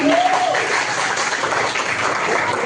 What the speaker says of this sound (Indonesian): tepuk tangan meriah untuk SMP Al-Bayan Islamic School